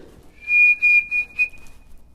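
A person whistles a single steady tone in a few short pulses, close and clear, with a quiet background and no talk.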